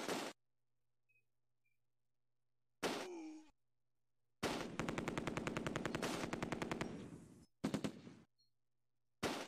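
Rapid machine-gun bursts in the Close Combat 2 Allied campaign: a long rattling volley of evenly spaced shots, with shorter bursts and single shots before and after, separated by near silence.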